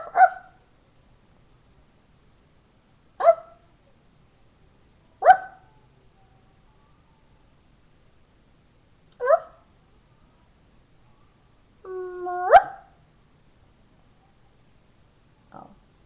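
A small poodle mix dog gives short, sharp barks spaced a few seconds apart, about six in all, close and clear against a quiet room, one drawn out slightly longer like a yelp.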